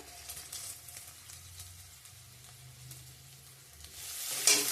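Whole cumin seeds and ginger tempering in hot oil for a potato, soybean and pumpkin curry, giving a steady, low frying sizzle throughout, with a brief louder crackle near the end as more goes into the pan.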